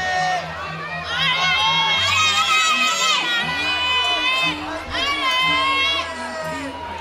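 A large crowd at a men's lead final of a European climbing championship in Chamonix cheers and shouts loudly and continuously, with whistles and high voices rising and falling over the roar.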